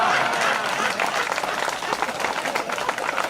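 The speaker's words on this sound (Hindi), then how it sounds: "सारे लोग ताली बजाओ" Audience members clap together at a live Hindi comic poetry gathering at a fair, a full, continuous burst of applause that stays loud and only thins slightly toward the end.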